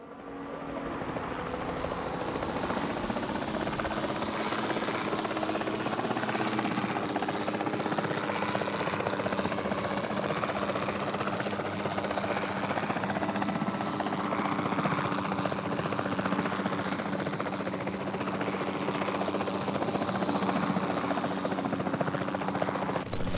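A helicopter in the Jurassic World Evolution 2 video game, heard as a steady, loud rotor and engine drone that holds unchanged for over twenty seconds with no talk over it.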